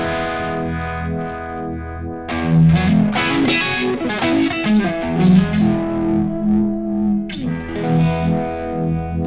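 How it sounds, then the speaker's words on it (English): Electric guitar played through a Univibe effect pedal placed before an overdrive on a touring pedalboard, sounding as loud, sustained, distorted chords with a swirling, pulsing modulation, close and with no talking. "I like the sound of the Univibe before overdrive."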